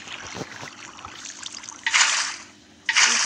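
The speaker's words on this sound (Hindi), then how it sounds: "अब पानी डालो" Water is poured in the Minecraft video game while building an aquarium. Two rushing, splashy bursts of flowing water stand out over a quieter trickling background.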